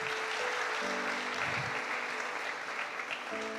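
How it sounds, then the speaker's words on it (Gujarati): Audience applause for a children's drama team at a youth assembly, a steady dense clapping that holds throughout, with a faint tonal hum running underneath. "તે બદલ સૌને આપણે તાળીઓના કડગડાટથી વધાવીએ"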